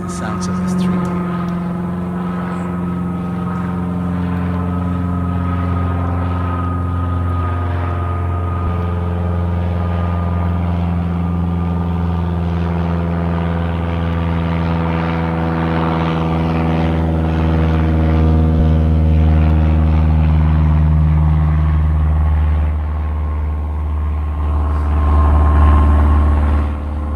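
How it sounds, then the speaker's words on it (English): A propeller plane drones steadily for nearly half a minute, a loud, sustained engine hum with layered harmonic tones that swell slightly toward the end, playing alone without talk. "Here's a propeller plane."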